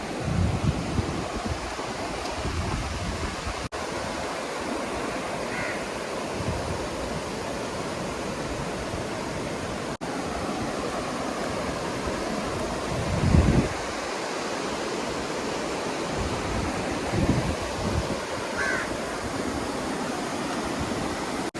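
Loud, steady roar of a rain-swollen river rushing with great force near Nipli Falls, Uttara Kannada, broadband and continuous, with a few brief thumps and splashes rising above it.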